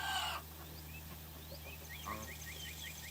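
Chickens cluck softly in a coop, with scattered short calls and one louder cluck midway over a steady low hum and background hiss.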